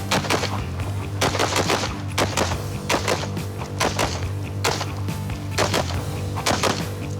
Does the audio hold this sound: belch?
no